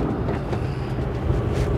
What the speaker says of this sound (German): Da ist schön windig.